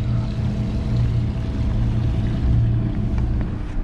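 A Princess F70 motor yacht under way at sea off Plymouth in blustery conditions, its engines giving a steady low drone with wind and water rush throughout, no talk.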